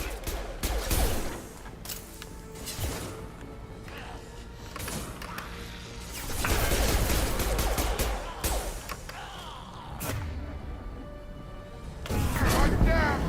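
Gunfire in the Mass Effect 2 video game crackles in repeated bursts and volleys, with heavier impacts now and then, close and chaotic, while voices talk over the combat.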